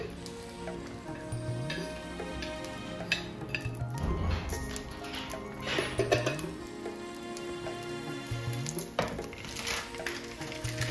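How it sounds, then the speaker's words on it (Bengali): Spices crackle and sizzle in hot oil for tempering boiled dal, a dense steady frying hiss close by with occasional clinks of a utensil against the pan, no voices. "এবারে ফোড়ন দিচ্ছি।"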